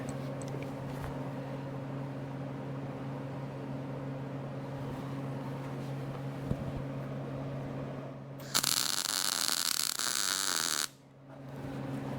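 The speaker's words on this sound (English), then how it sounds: "Just weld a little on this side first." Welding on a custom-built lifting boom attachment: a steady electrical hum for several seconds, then a loud bright crackling arc starts abruptly near the end and cuts off after about two seconds.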